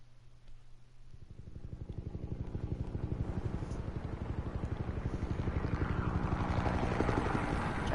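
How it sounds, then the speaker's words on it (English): A helicopter in a Telltale Batman cutscene spins up from a low hum into loud, rhythmic rotor chopping that builds steadily and fills the scene with close, pulsing thumps. "I was on a roof with a helicopter."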